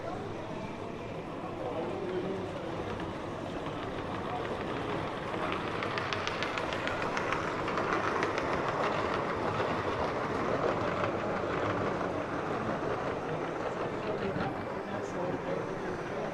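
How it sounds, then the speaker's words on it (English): Model train locomotive running along a large layout at a model show in Suffolk, a steady rolling clatter with faint rhythmic clicking in a busy hall, with people talking in the background throughout. "We've got a loco coming through now."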